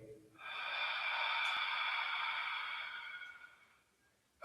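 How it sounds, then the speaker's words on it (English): A single slow, deep diaphragmatic breath, a long airy rush of air drawn in close to the microphone that swells and holds for about three seconds before fading. "deep, diaphragmatic gut breathing"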